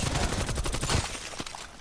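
AK rifle fire in Call of Duty Cold War zombies mode, a rapid loud burst of shots rattling close by for about a second, then a couple of trailing pops.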